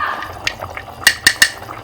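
A flour-and-water mix is poured little by little into a pot of chicken nihari while a spoon stirs, giving soft liquid sloshing and a few bright metallic clinks of spoon against pot, close up.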